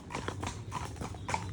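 Horses being ridden along a main road, hooves clip-clopping in a steady walking rhythm under a constant background rumble, moderately close with no talking.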